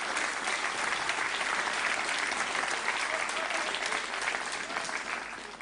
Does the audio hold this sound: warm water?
no